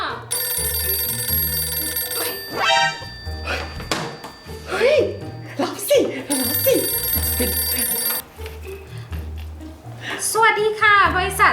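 A telephone rings in a Thai ghost-hunting video game, with bursts of ringing early on, in the middle and near the end, mixed with game music and thumps.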